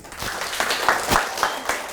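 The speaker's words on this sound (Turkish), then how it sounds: "Alkışlıyoruz" School audience applauding a children's drama performance, a dense burst of close clapping filling the whole moment.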